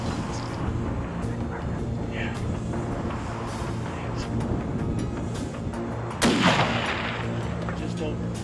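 A rifle shot rings out on a Himalayan ibex hunt in Pakistan, one sharp loud crack late on over a quiet outdoor background with faint murmured voices.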